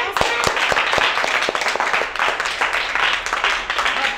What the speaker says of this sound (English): Shall we clap to ourselves?